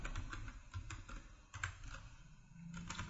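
Rapid computer keyboard typing while coding a Python socket server program, close and clear with no talking, keystrokes clattering in an uneven burst throughout.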